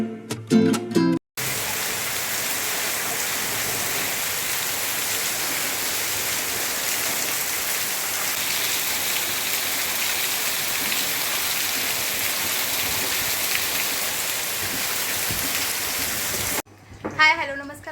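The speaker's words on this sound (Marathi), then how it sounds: "इकडे बघू शकता तुम्ही पाऊस चालू आहे" Steady, dense rain pours down continuously and close by, a broad hiss that fills the scene, with brief voices just before it begins and again as it ends.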